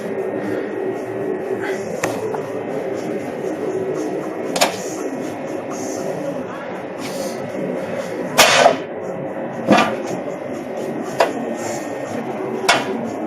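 Several sharp metallic knocks, spaced irregularly, ring out over a steady low background hum as a hammer knocks a wheel onto the hub of a 1996 International dump truck.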